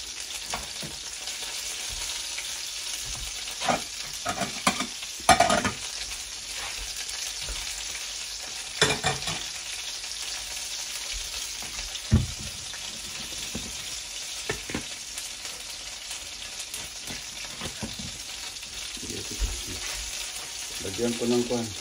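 Fish fingers fry in hot oil with a continuous close sizzle and bubbling, broken by clattering stirs and utensil knocks, a voice murmuring now and then.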